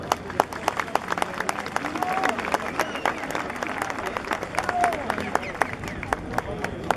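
An audience at a ceremony honouring Ayacucho music masters in Huamanga breaks into scattered, moderately close clapping that carries on steadily, with a murmur of crowd noise and some voices underneath.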